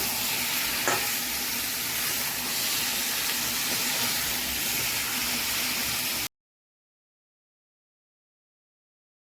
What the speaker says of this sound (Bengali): এটা কষবো, কষে মাংসটা দিয়ে দেবো